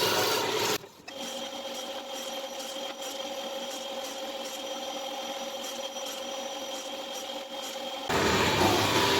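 A saw runs continuously as it cuts a wooden segment to 84 mm for a segmented platter, a steady, fairly loud whirring rasp with a slight drop near the start and a swell at the end, with no speech.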